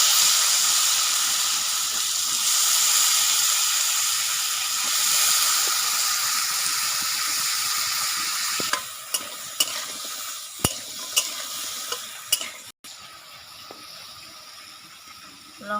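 Potatoes and pointed gourd fry in a hot pan with a steady, loud sizzle and hiss, then the sizzle eases while a spatula scrapes and taps the pan several times.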